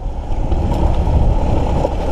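A strong river current rushes steadily past a flooded creek bank, a loud, close, continuous broadband roar with a little wind buffeting and no voices.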